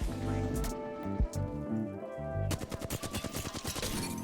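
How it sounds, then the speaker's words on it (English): Flatline rifle fire from Apex Legends rings out as a fast burst of repeated shots in the second half, following a stretch of tonal game music and sound effects. "so I end up overheating my gun"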